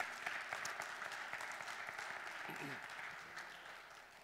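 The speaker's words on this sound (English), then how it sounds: "You can all clap now." A church audience applauds after a performance, a steady, moderately distant wash of many hands clapping that slowly fades, with a brief voice speaking partway through.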